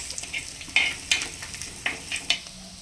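Curry leaves, ginger and garlic frying in a pan for a curry, giving a soft continuous sizzle broken by several sharp crackling pops, close and fairly loud, with no talking.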